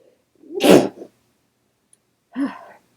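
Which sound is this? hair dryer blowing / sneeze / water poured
sneeze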